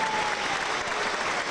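A crowd at a book presentation claps steadily for an engineer, a thick, continuous wash of applause from many hands in a room.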